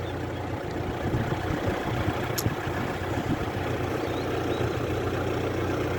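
A farm tractor engine runs steadily in an orchard, a continuous low rumbling idle with a droning chug that holds even and fairly close, with no talk over it.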